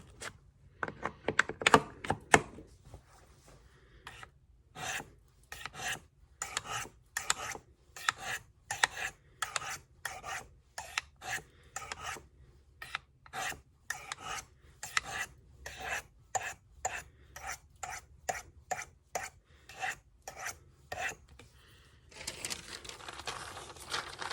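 A knife is sharpened on whetstones in a long run of rhythmic rasping strokes, each a short gritty scrape with brief pauses between, close and fairly loud, ending in a steadier hiss.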